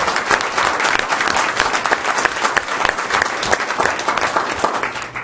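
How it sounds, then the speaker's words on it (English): Loud, dense applause fills a city council meeting room, a crowd clapping steadily throughout with no speech over it. "So, big round of applause."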